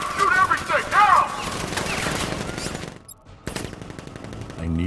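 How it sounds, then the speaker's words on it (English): Guards' gunfire in the video game Batman Arkham Knight, rapid automatic bursts with a brief gap before more shots, heard alongside in-game voices. "Guard! Open fire! Shoot everything!"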